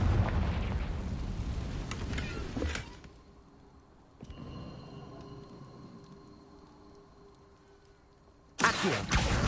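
A Confringo fire spell explodes in the Hogwarts Legacy video game, a loud rumbling blast that fades to a quiet hum before a second sharp burst hits at the end.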